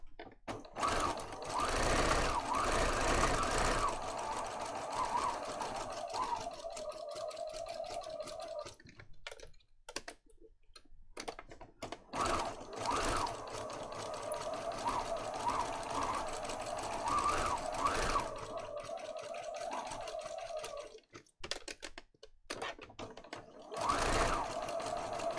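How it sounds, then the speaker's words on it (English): Sewing machine stitching a small lace tag onto a paper junk journal, running in loud buzzing bursts with short pauses between runs, close by. "I'm just going to sew a little lace tag on the top so it's obvious that it's there"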